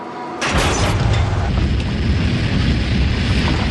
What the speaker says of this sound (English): I heard a thud.